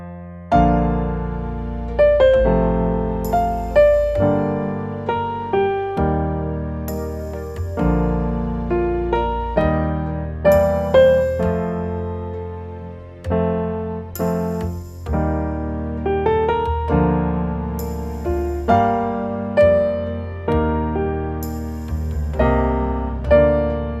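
Piano plays the chorus of a song in an intermediate-level arrangement, with sustained chords under a singing melody line, moderate tempo, close and clear with no voices.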